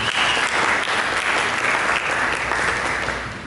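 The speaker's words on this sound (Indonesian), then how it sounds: "Mari berikan tepuk tangan bagi Yesus" A church congregation applauds for Jesus during a sermon, a dense, continuous wash of clapping from many hands filling the room, steady and fairly loud before easing slightly at the end.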